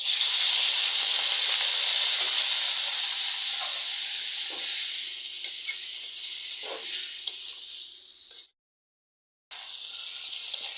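Chili powder and turmeric with a splash of water sizzling in a pan for a spiny gourd curry. A strong hiss fades slowly, with a few clicks along the way, then cuts to silence for a moment and comes back softer.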